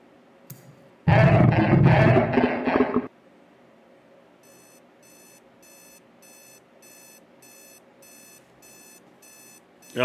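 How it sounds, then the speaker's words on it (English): A big alarm clock in a video game goes off with a loud harsh burst of ringing, then falls silent before a steady train of rapid electronic beeps repeats evenly at a lower level. "Oh, it's a big version of my alarm clock."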